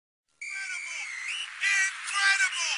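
Fans in a basketball arena whistle in shrill, wavering tones that overlap and swell toward the end, with no cheering or crowd roar clearly audible.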